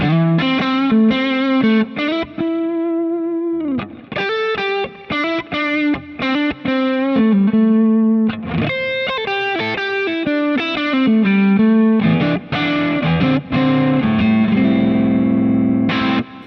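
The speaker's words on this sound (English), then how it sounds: "you'll hear that Dumble kind of like warm breakup voice" An electric guitar plays a melodic phrase through a Dumble-style amp with warm, slightly gritty breakup, notes ringing out with some reverb, loud and close.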